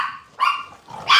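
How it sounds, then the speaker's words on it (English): Several dogs in a home bark sharply at close range, a couple of loud, rough barks separated by a brief pause, with no talking. "Crazy dogs. We got 9 dogs."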